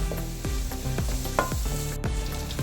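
Onions sizzle and fry steadily in a pan for mutton njalli thoran, with a spatula scraping and stirring at a regular rhythm, close and fairly loud, with no talking.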